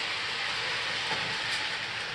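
A model train on a layout with a remotely switched track rolls over a track switch, producing a steady, close rumbling whir for about two seconds.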